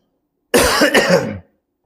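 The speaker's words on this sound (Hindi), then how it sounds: "थोड़ी खांसी की दिक्कत हो गई है आज" A single harsh cough, close and loud, lasting about a second, with silence around it.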